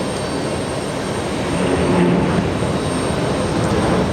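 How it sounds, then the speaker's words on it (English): A Boeing 787-9 Dreamliner jet taking off at a busy airport, a broad steady roar that swells slightly midway and holds, loud and continuous with no talk. "We have just heard a big one, looked like a big 787-9 Dreamliner."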